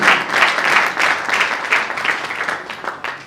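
An audience claps at an anniversary celebration for the La Patience polyclinic in Matadi, with dense, fairly loud applause that rises and falls in waves for a few seconds before tapering.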